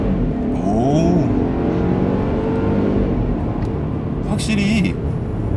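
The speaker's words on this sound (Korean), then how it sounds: "스포츠 플러스를 놓고 주행을 하도록 하겠습니다. 자, 세게 한번 밟아볼게요." A Mercedes-Benz E250 four-cylinder petrol car accelerates hard in Sport Plus mode, a steady loud engine drone with a rising tone heard from inside the cabin, with a voice speaking over it.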